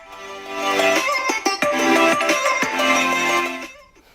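Music streamed from a phone plays loudly over a Bluetooth speaker, a tonal track with sustained notes and a few sharp percussive hits, filling the room for several seconds before cutting off abruptly.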